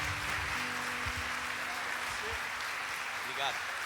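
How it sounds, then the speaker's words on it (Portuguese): Congregation applause during an evangelical church service, a steady wash of clapping sustained throughout, with faint tonal background sound and a brief voice near the end. "Vamos aplaudir o Senhor pelo servo de Deus essa noite."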